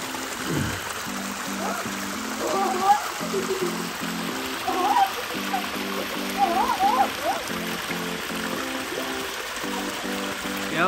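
A small waterfall with only a little water trickles and splashes steadily beside a pond near a roadside in Uttarakhand, with voices and a person talking over the flowing water throughout.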